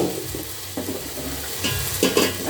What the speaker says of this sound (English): we have to check on our mixture that is cooking